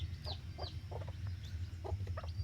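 Young Siruvidai native chicks, a fighting breed, cluck and peep repeatedly over a steady low rumble, with several birds calling at irregular intervals.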